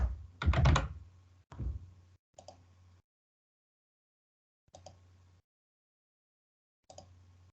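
Keys clatter on a computer keyboard during Oracle R12 finance data entry, a quick burst of several keystrokes followed by sparse single presses separated by silent gaps, close and fairly quiet.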